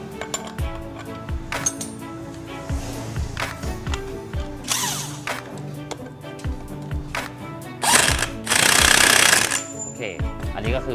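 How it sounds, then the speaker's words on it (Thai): An electric impact wrench hammers a motorcycle belt-drive nut tight in loud rattling bursts, the longest near the end, among clinking metal tools and someone talking nearby. "เสร็จแล้วให้ใช้บล็อกไฟฟ้ายิง ก็คือยิงได้เลยตามปกติ"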